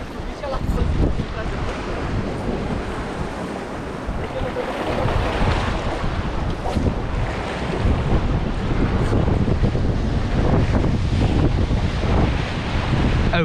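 Rough sea and gusting wind roar continuously around a small fishing boat off Santa Maria in the Azores, with dense broadband surf noise and heavy wind buffeting on the microphone throughout.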